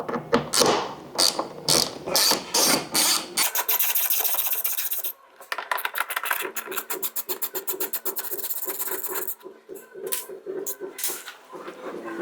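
A ratchet works loose the fairing bolts on a Harley-Davidson Softail Low Rider FXLRST, giving a close, steady run of quick clicks and rasping mechanical bursts that stop and restart a few times.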